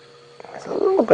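A big cat growls low and rough while it mauls a buffalo carcass at night in the African bush, practising a throat grip, with a few short close rumbling bursts that build toward the end.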